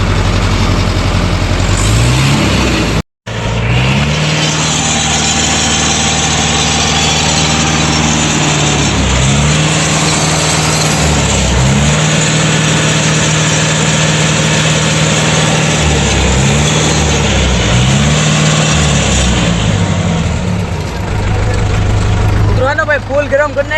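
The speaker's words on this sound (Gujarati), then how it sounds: "ટ્રેક્ટર મિત્રો ચાલુ થઈ ગયું છે." A village tractor engine, fully heated with water leaking out, idles loudly up close and revs in repeated rising and falling surges, with a short cut near the start and voices at times over the engine.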